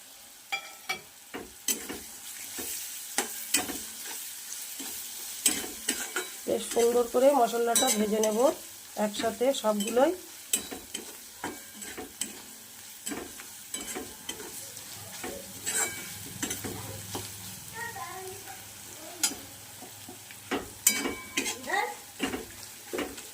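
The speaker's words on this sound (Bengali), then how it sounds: "দিয়ে আমার এই চীনা বাদামগুলো আমি তেলে ভেজে নেবো" Scattered clicks and scrapes of a spoon stirring peanuts frying in oil in a pan, with light sizzling and a voice speaking briefly midway.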